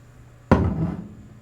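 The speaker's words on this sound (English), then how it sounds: "this is the sound of me tapping my whiskey bottle." A single sharp tap on a glass whiskey bottle, close and clear, rings briefly and fades over about a second in a quiet room.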